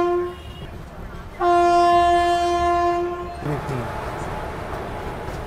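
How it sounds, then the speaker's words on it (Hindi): Andaman Express passing close by on Indian rails, announced by a loud, sustained horn blast that cuts in abruptly, followed by the heavy rushing roar of the moving train. "कोई ट्रेन है ये, वैसे ये अंडमान एक्सप्रेस लग रही है मुझे"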